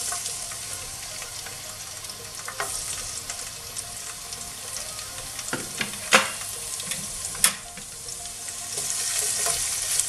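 Garlic and green chili sizzle steadily in hot oil with dry methi in a pan for a Bengali fish curry, a continuous close frying hiss with a few sharp crackles and stirring clicks, no talking.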